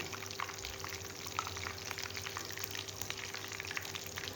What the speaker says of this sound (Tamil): மீதம் உள்ள இறைச்சி இந்த மாதிரி ஃப்ரை பண்ணி எடுத்துக்கலாம்